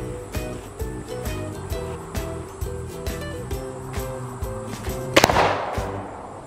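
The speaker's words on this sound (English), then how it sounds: "That was an explosion. That sounded like a real gunshot." A pressurized plastic bottle cap bursts from an air gun shot, one sharp loud crack near the end, preceded by steady rhythmic background sounds.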